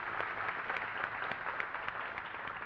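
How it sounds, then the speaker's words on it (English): Faint, muffled audience applause at a youth awards ceremony, a steady patter of many hands heard from a distance for a few seconds. "Let's another round of applause for her"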